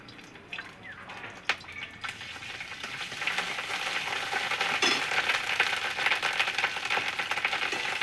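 Ginger paste hits hot oil and sets off a sudden, steady crackling sizzle that grows denser and louder after a few seconds. There are scattered pops and a few utensil knocks, with no voices.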